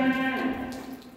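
A Simmental cow on a dairy cattle farm lets out one loud, close, drawn-out low moo with a rich harmonic tone, heard alone.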